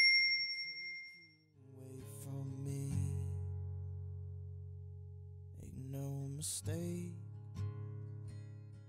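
Notification bell chime in a Greek home-baking recipe, heard as bright bell-like dings near the start and again midway over a sustained tonal music bed, with no talking.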